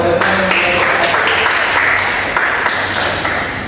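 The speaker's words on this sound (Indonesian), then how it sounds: "Dan tepuk tangan dulu." A classroom of students claps together in sustained applause, a loud, dense patter of many hands that continues through the whole stretch and tapers slightly at the end.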